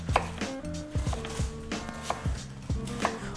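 A knife chops food on a cutting board in a regular rhythm of sharp, close thuds, about a dozen strokes, clear and alone with no talk.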